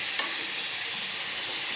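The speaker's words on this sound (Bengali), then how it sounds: "যতক্ষণ না ভাজা হচ্ছে ততক্ষণ আমি এটা নেড়ে নেড়ে ভাজতে থাকবো" Pointed gourd fries in a pan over medium heat with salt, a steady close sizzle broken by one brief scrape as it is stirred.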